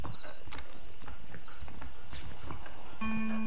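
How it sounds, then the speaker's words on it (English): Horses clip-clop at a trot in the Red Dead Redemption 2 video game, hooves striking in a quick, even rhythm at moderate distance, with a brief tonal game sound near the end. "all I found was horses"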